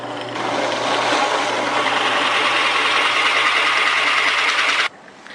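A router bit cuts steadily around the sides of a wooden workpiece, a loud continuous whining buzz for several seconds that stops abruptly near the end.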